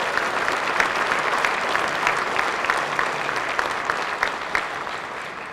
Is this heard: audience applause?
yes